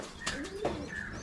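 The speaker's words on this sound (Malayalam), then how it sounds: "ഉള്ള വെറൈറ്റി ആയിട്ടുള്ള കുറേ പ്രാവുകൾ ഇവിടെ ഉണ്ട് കേട്ടോ." Caged pigeons of several varieties at a pet shop coo in two or three short, soft, nearby calls over a quiet background.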